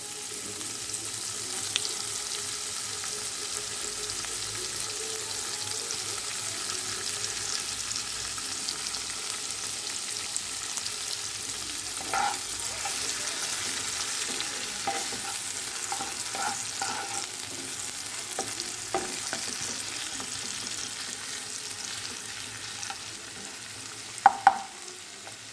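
Chopped onions frying in oil with whole cinnamon, cardamom and cloves for a Bengali prawn curry, a steady soft sizzle with occasional stirring scrapes and a couple of louder clinks near the end.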